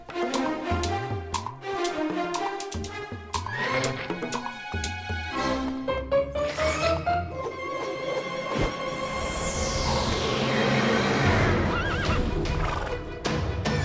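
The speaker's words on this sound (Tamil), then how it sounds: "இந்த குதிரை எவ்வளவு அழகா இருக்கு பாருங்களேன்." A wild horse neighs and whinnies repeatedly, loud and close, with shrill rising and falling calls and some snorting between them.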